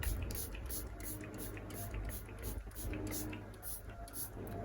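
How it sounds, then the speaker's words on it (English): A makeup setting spray is pumped in quick, evenly spaced bursts, each a short sharp hiss close to the listener, repeating about ten times in a steady rhythm over a low background hum. "You need a setting spray in your makeup kit because it will help you set your makeup in place"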